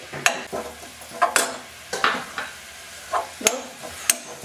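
Grated coconut is sautéed in thick jaggery syrup in a pan, a spoon scraping and stirring in uneven strokes with soft sticky sizzling between them; no one speaks.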